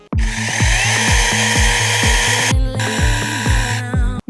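A ProCraft PKA44 cordless mini chainsaw runs close by, a loud, high whining motor with a chain rattle that holds steady for several seconds, briefly dipping before revving on again.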